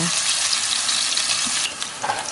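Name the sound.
shallots and garlic frying in hot oil in a wok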